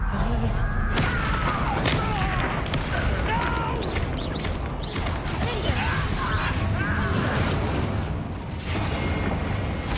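A Confringo blasting spell explodes during a duel in Hogwarts Legacy, giving a loud, sustained roar of blasts and crashing debris that fills the whole stretch without letup.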